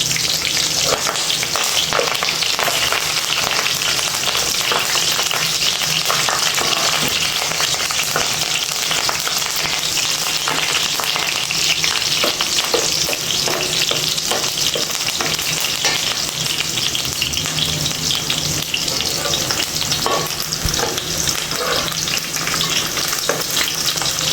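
Curry leaves fry in hot oil for a fish curry, a steady dense sizzle and crackle that carries on without a break at close range, with no voices.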